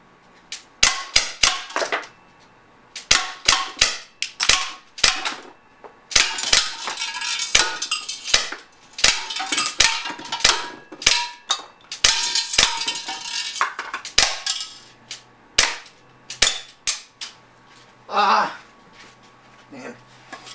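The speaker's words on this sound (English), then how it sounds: "Keep shooting, guys." An Umarex Morph 3X 4.5mm CO2 air gun fires repeatedly, sharp close cracks in quick irregular bursts with metallic pings between them, while someone talks intermittently.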